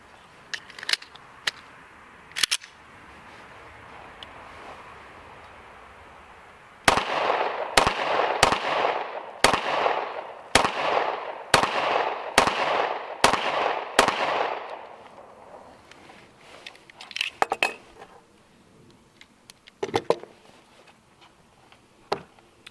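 A 10mm pistol fires a full magazine in a steady string of about ten loud, sharp gunshots spaced under a second apart, each with a decaying echo, followed by a few scattered clicks and handling noises.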